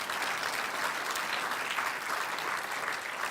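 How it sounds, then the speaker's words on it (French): A church congregation claps during an Easter sermon, producing a continuous, moderately quiet roar of applause from many hands that holds steady without breaks. "Si vous voulez applaudir, applaudissez pour de bon."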